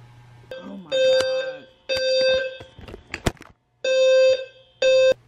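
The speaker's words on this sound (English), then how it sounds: "the fire alarm keep going off because they fixing something" A building fire alarm, set off repeatedly during repair work, blares in repeated loud electronic beeps, separated by short gaps, with brief clatter and voices between bursts.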